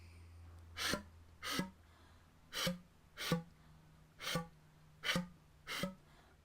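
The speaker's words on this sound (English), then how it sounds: "there's tongue ram, which sounds like this." Seven short, breathy, percussive flute tongue ram attacks sound one after another at a loose, even pace, each a sharp burst of air ending in a low pitched thump.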